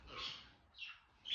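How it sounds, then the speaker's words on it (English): Small pet parakeets chirp faintly indoors, three short bright calls spaced across a quiet moment. "And then little happy birds. These are parakeets."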